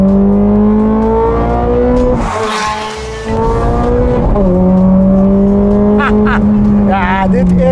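A Ferrari eight-cylinder engine revs hard, a loud, rising and falling roar with a brief dip in the middle before climbing again, close by, with someone talking partway through.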